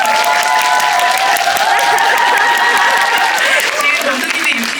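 Cinema audience at a Lotte Cinema World Tower screening with director Q&A breaks into sustained, dense applause, with cheering crowd noise filling the whole stretch.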